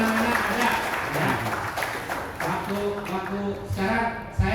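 A crowd at a meetup of phone repair technicians in Purwakarta claps for Kang Deni Haryadi in a brisk burst of applause, with voices mixed in over the clapping.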